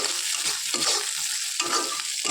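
Okra frying in a pan while being stirred, a close sizzle broken by repeated scraping strokes of a spatula in an uneven rhythm, no voices.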